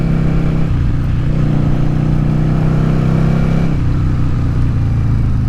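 A Yamaha XV750 Virago motorcycle being ridden, its engine droning steadily and loudly with a low, even hum and a slight shift in pitch partway through, heard alone without any talk.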